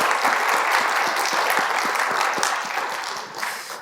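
A church congregation at a Sunday service claps after a cello offering performance, a warm, steady round of applause that eases slightly near the end.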